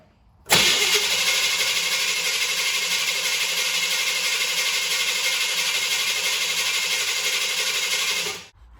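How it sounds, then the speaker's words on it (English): A car engine with a Holley 1850 carburetor cranks briefly, catches, and settles into a loud, steady idle that runs for several seconds before cutting off. "close them up and crank the car"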